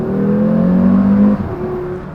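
An Audi RS3 8V five-cylinder engine revs hard from inside the car with the window lowered, a loud, close, warbling drone that holds and then falls away as the revs drop.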